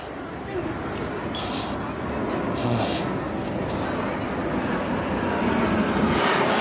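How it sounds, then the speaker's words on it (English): A propeller airplane drones overhead near Duden Waterfall in Antalya, a broad rumble that slowly grows louder, with faint background noise. "So there's an aeroplane there."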